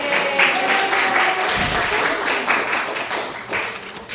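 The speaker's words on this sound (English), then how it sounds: "Let's just give them a round of applause." An evening benefit audience applauds a sponsoring credit union, a broad wash of clapping that holds steady throughout, with faint tones and a brief thump underneath.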